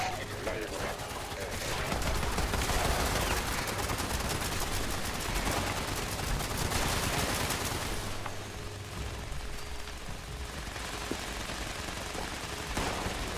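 Automatic weapon fire in Fallout 76 rattles out in dense bursts, loud and sustained through most of the stretch before easing off, with game ambience behind.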